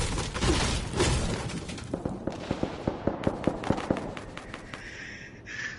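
Gunfire in Fortnite rings out as a rapid string of sharp, evenly spaced shots after some louder blasts, fading into a brief metallic ring at the end.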